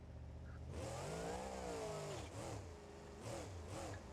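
A supercharged and turbocharged monster truck engine revs in a BeamNG.drive simulation, climbing and falling in pitch through several throttle blips, fairly close and alone.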